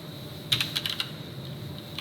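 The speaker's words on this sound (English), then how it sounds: "you need to type in the main method first" Keys on a computer keyboard tapped while entering Java code, a short burst of about half a dozen crisp clicks near the middle, fairly close and quiet, with no talking.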